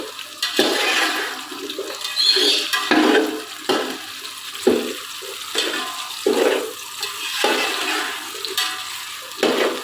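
Onions frying and being stirred in a pot for aloo pulao, with steady sizzling and repeated scraping strokes of a spoon at a regular rhythm, close and fairly loud, with no talking.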